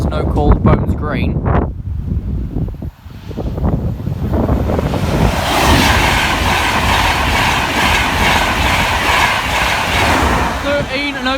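A train passes Bathley level crossing, a loud continuous rumble with rail clatter and wind buffeting that builds after a few seconds of voices and holds steady to the end.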